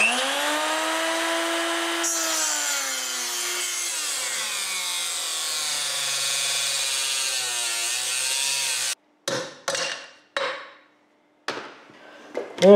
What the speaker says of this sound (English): I'm just using this cutoff tool